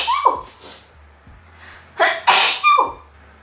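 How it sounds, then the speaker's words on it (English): A sneeze with a sharp intake of breath first, then a loud burst, followed by a second sneeze-like outburst. Nearby and clear, no talking. "I need to sneeze"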